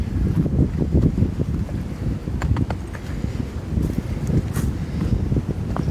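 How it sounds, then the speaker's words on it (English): Wind gusts across an Appalachian Trail mountain trail on Cowrock Mountain in autumn, a loud, rumbling, continuous roar buffeting the microphone, with faint rustling above it and no talk. "Got a nice wind kicking up too."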